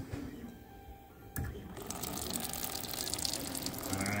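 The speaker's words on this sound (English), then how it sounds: "I'm going to try and punch a hole in here, and then we'll see what the water flow looks like as it comes out" Water gushes steadily out of a punctured, water-filled balloon, a continuous splashing flow that starts after a brief bump and carries on loud and close.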